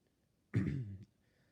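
A single short throat clearing, close and fairly soft, a brief guttural rasp in an otherwise quiet setting.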